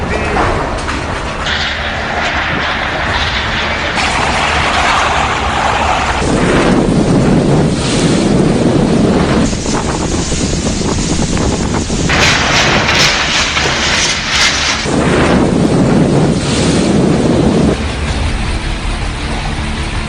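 Strong wind roaring against the microphone over crashing sea waves at the coast during Cyclone Nisarga, a loud continuous buffeting rush that swells and eases in long surges, with no voices.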